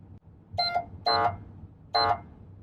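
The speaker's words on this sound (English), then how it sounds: "Air horn." Three short, loud blasts of a police car air horn sound in quick succession, each a brassy honk lasting a fraction of a second.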